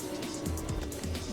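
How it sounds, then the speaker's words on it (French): A sports car drives fast in the Fortnite video game, a soft engine hum with quick tire-squeal bursts in a brief, low-level stretch. "Ah, là, on va vite. Avec une voiture sportive."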